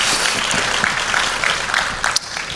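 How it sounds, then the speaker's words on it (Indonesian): A church congregation applauds, a steady dense wash of many hands clapping that fills the room evenly throughout, with a few louder claps standing out near the end. "Berikan tepuk tangan kita untuk Tuhan kita."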